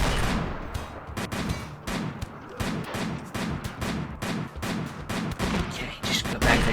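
Video game gunfire, a rapid, steady string of sharp, loud shots with short gaps between bursts, close and sustained throughout.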